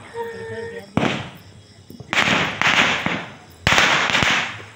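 Firecrackers bursting during a Diwali celebration: a sharp bang followed by two long crackling volleys of rapid explosions, loud and near, with crickets chirping faintly beforehand.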